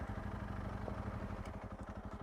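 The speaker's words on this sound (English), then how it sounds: "Engine off." A motorcycle engine idles steadily close by during a trip through the Danube Delta, a continuous low rumble with loose mechanical clatter and no talk over it.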